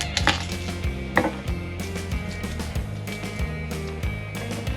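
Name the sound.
chopping garlic with a knife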